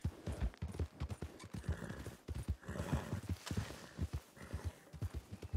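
In the RedM video game, a horse's hooves clip-clop in a steady walking rhythm, close and fairly quiet, with a whinny mixed in midway.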